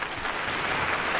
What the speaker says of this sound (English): Give him the money store applause.